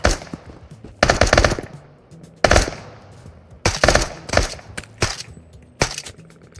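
Assault rifle fire in the VR apocalypse survival game Into the Radius rings out in loud, close bursts about every second, each crack followed by a short ringing tail.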